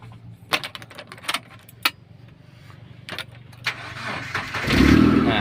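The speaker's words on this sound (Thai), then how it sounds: "เดี๋ยวผมติดเครื่องให้ฟังครับ" Keys jangle and a few clicks, then a car engine cranks and catches near the end, settling into a loud rumble.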